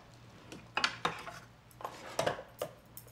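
Knife and cutlery clinking on a plate while cutting a cooked lobster knuckle in half, several close, light metallic taps and scrapes at uneven intervals.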